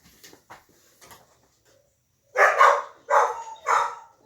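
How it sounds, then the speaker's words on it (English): Dogs barking outdoors, a cluster of three loud, close barks in quick succession after a few fainter, distant yips and knocks. "dogs are going off outside."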